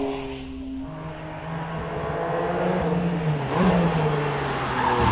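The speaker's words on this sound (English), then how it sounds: "Richard Snow gets underway in the Porsche Cayman GT4 RS" A Porsche Cayman GT4 RS race car pulls away on a hillclimb run at Prescott, its engine droning and rising steadily in pitch as it accelerates, fairly close and loud with no talk over it.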